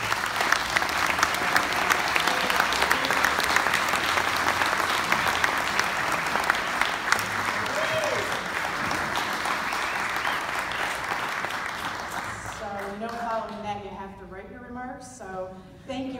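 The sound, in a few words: audience applause for award winner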